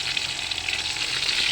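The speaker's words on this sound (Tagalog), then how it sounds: "Pritong isda ang aming ulam." Fish frying in a pan in a home kitchen, a steady close, continuous sizzle and crackle of hot oil with no voices over it.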